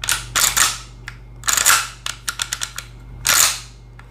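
Mossberg 500 pump-action shotgun with its action released and opened, giving a run of sharp metallic clacks and clicks, several spaced bursts and a small rattling cluster, close and fairly loud with no talk.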